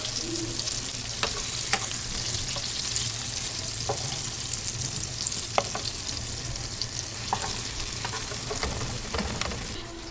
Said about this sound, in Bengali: তো বেগুন ভাজি করছি ননস্টিকের কড়াইয়ের মধ্যে